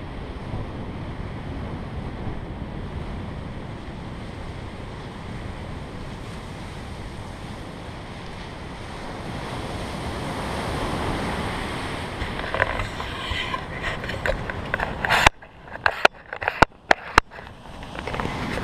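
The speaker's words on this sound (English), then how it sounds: "The waves are huge here." Large Atlantic Ocean waves break on an island beach in a steady, broad roar mixed with wind noise on the microphone, then give way near the end to sharp gusty buffeting.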